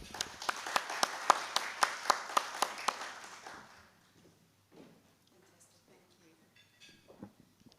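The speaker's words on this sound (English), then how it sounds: "please give her a warm round of applause" Audience applause welcomes a speaker to the stage at a remote and blended work event, a burst of rapid, fairly close clapping that fades out after a few seconds into quiet room noise with brief murmurs.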